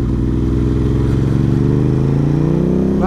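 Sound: Ducati motorcycle engine braking

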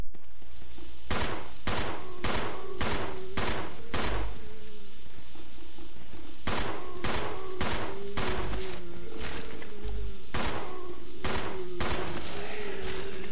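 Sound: gunfire in the video game Resident Evil Zero

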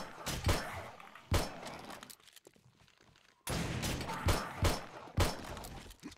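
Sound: gunshots in the video game 7 Days To Die

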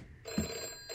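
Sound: telephone ringing in the video game Deep Sleep

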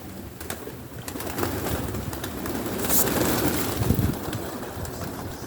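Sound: birds

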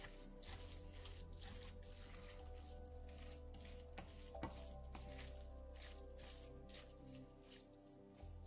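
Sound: cabbage and beef frying in a pan

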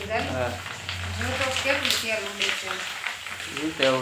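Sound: frying food in oil

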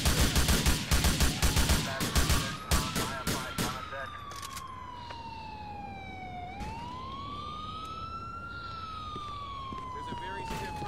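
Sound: gunshots in the video game GTA (LCPDFR mod)

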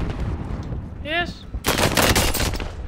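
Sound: gunfire in video game Call of Duty Warzone

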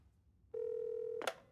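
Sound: telephone being dialed

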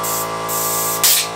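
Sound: blowing air through a Jiffy auger carburetor

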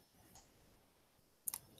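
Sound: mouse click on the broadcast button

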